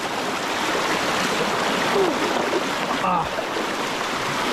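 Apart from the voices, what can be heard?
strong current of a rocky stream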